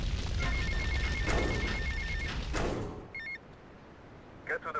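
A payphone rings in GTA Vice City Definitive Edition, a repeated electronic trill heard through loud game noise and thumps before the sound drops away, then brief bursts near the end.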